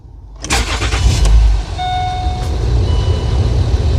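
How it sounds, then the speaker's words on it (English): Land Rover Discovery with a transmission fault having its ignition cycled: a burst of engine and starter noise, then a string of warning chimes over a running engine hum, close by. "And you cycle the ignition."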